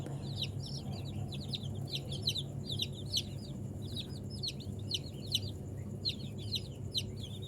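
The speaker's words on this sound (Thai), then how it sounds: "นี่ครับอันนี้ก็จะเป็นลูกไก่บ้านนะครับ อายุ หนึ่งวัน" Day-old domestic chicks in a brooder pen peep constantly in high, bright bursts, overlapping into a busy chatter above a steady low hum.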